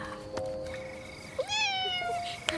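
A cat meows once, a rising-then-falling cry heard clearly up close over a quiet indoor room with a soft hum and a couple of faint knocks, with no one speaking.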